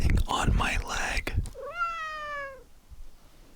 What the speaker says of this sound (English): This is my lovely cat, Mally.